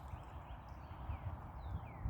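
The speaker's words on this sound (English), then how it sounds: "Jim is the good traditional plow horse." A draft horse plow team works in a field, with soft clopping hooves and a low steady rumble of movement continuing throughout, moderately close and unaccompanied by talk.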